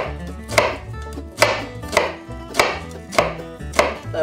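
A knife mincing an onion on a cutting board, with about seven evenly spaced, crisp chops against the board, close and loud with no talk.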